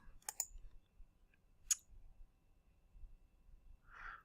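A computer mouse gives a few sharp, isolated clicks close by in a quiet room: a quick double click, a single click after a pause, then a soft final tap.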